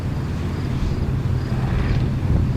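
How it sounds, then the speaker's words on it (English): A very loud motorcycle gives a rumbling engine drone that holds steady throughout, running nearby at Fort Griswold Battlefield State Park, with no other sounds over it. "it was just a very loud motorcycle"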